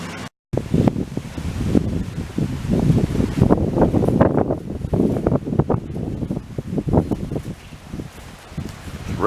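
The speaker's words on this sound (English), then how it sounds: "It's really windy out here." Strong wind gusts outdoors by a charcoal fire, buffeting the microphone in a steady, rough rumble that surges and eases over several seconds.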